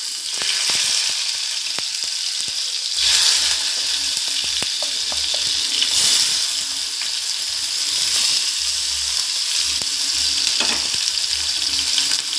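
Pieces of cheese and egg frying in hot oil, a loud continuous crackling sizzle up close with occasional pops and faint clinks, no voices.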